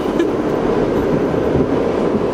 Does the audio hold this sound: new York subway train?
yes